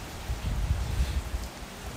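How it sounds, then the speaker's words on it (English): Steady rain falls during Hurricane Ian, a dense, even wash of drops with low, rumbling gusts of wind underneath. "It's a wonderful 72 degrees and raining pretty good."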